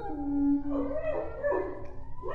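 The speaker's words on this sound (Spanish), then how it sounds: "los perros de aquel vecindario volvieron a llorar como hace años" Neighbourhood dogs howling at night, long rising and wavering cries overlapping one another, fairly close and clear with no talk.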